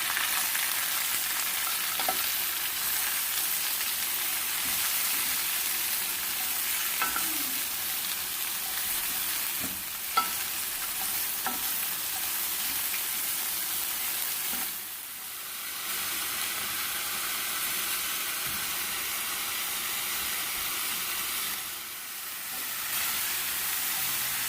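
Peppers and onions fry in a cast iron skillet with a tablespoon or two of oil, giving a steady loud sizzle and hiss throughout with occasional faint stirring clicks, no talking.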